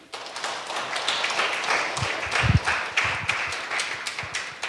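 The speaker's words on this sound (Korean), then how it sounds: "큰 박수로 모시겠습니다" Scattered clapping builds into a brief round of applause from a modest crowd welcoming a guest lecturer, with some louder individual claps standing out.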